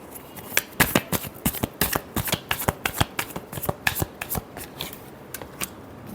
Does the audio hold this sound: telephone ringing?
no